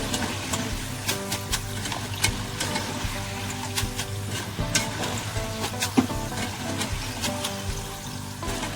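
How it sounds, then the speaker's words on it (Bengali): Homemade potato chips fry in hot oil while being stirred continuously until crisp, giving a steady, dense sizzle with light stirring clatter throughout. "এবার আমি এটাকে অনবরত এভাবে নেড়ে চেড়ে খুব ভালো করে ভেজে নেব যতক্ষণ না পর্যন্ত একদম মচমচে হয়ে যাচ্ছে"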